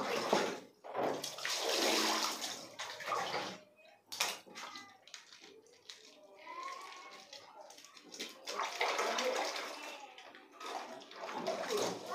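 Water splashes and pours in bursts, spraying and soaking jacket fabric during garment making, with brief pauses between gushes and a few faint voices in the background.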